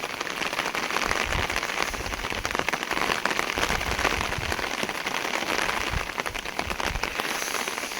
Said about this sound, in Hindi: ये देख सकते हैं कितनी तेज़ तेज़ हवाएं चल रही हैं।